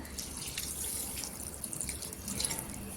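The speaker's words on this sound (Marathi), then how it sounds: "त्याच्यामध्ये पाणी टाकायचं असं एक ग्लास पाणी ठेवायचं" Water trickling and splashing into a vessel, a soft continuous pour with faint drips, fairly quiet and close.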